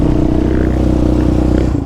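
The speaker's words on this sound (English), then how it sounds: "Man, the Sparks exhaust sounds awesome." Yamaha Raptor 700 ATV fitted with a Sparks exhaust revs loud and close, a rough, throbbing engine note holding steady for a couple of seconds.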